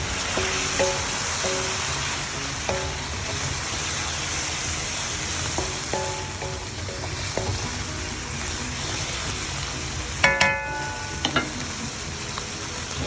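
Chicken noodles coated in sweet soy sauce sizzle steadily in a pan while being stirred, with scattered light scrapes and a louder metallic clink near the end, close and continuous.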